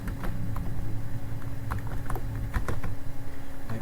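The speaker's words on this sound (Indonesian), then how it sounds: "Kita ketik di sini IP address" Rapid keystrokes on a computer keyboard as an IP address is entered during Cisco network setup, a steady run of close, even clicks with no talk.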